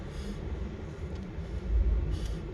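A Bangkok Yellow Line monorail train slowing down, heard as a steady low rumble that swells and then eases, with faint higher whine, no one talking.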